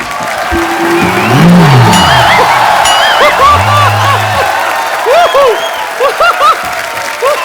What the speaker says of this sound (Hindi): जोरदार तालियां एक बार बाबा जी के लिए